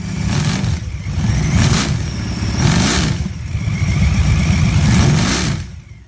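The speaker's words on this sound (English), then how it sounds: "incorporating an aircraft radial engine into a chopper motorcycle" A big seven-cylinder aircraft radial engine fitted to a chopper motorcycle runs loud and close, its rumble rising and falling in several revving surges before cutting off.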